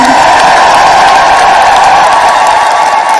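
A church congregation ululates in praise, a loud, sustained high trilling chorus that fills the room without a break and carries a crowd-like wash over it.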